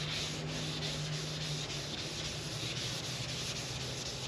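Sandpaper is rubbed by hand across car paint in a parking lot, a continuous close scratchy rasp with steady back-and-forth strokes, no talking.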